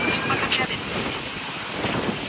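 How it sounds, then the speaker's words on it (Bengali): Outdoor wind gusting steadily across a village cooking area where onions and garlic are being fried, a broad continuous rush that swells briefly near the start and stays moderately loud throughout. "বাতাসে সব উড়াই নিতেছে।"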